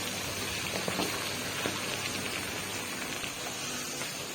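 Chicken pieces fry in hot oil, giving a steady, dense crackle and bubbling hiss that runs unbroken throughout, close and fairly loud, with no talking.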